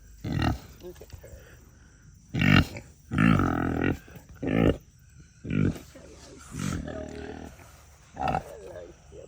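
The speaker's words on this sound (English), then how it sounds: "Good pig. Oink." A farm pig grunts in a string of short, loud, deep bursts at irregular intervals, close by, with people talking between and over the grunts.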